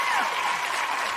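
An excited crowd applauds loudly and continuously, dense clapping filling a short burst with no break.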